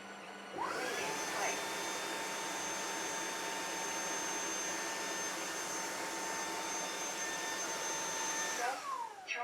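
Proscenic WashVac F20 cordless wet-dry vacuum running its roller brush cleaning cycle, a loud steady motor whine that starts abruptly, holds constant for several seconds, then winds down.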